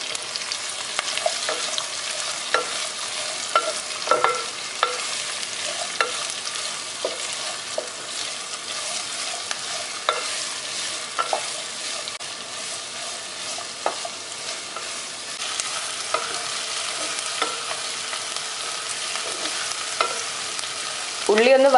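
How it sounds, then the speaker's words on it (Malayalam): Three large sliced onions fry in oil in a pan for a Kerala-style prawn biryani, a constant close sizzle broken by frequent scraping stirs, with no one speaking. "നമുക്ക് ഇതിലേക്ക് ആദ്യം സവാള ഇടാം."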